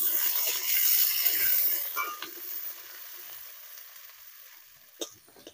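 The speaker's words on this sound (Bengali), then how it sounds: "আলুটা একটু ভালো করে ভেজে নেব।" Potatoes fry in hot oil in a home kitchen, a loud close sizzle that gradually softens, with a few stirring scrapes and clinks near the end.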